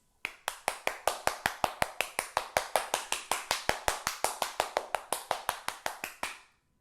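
Hands clap loudly around antique furniture as a feng shui space-clearing step, about thirty sharp, evenly spaced claps in a steady rhythm, close and alone, with no talking.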